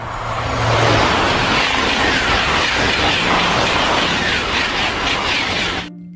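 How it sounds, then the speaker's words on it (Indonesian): A toy high-speed train makes a loud, rushing whoosh that swells and holds steady for several seconds before stopping abruptly, with no talk over it. "Kereta super cepat."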